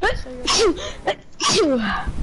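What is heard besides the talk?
sneeze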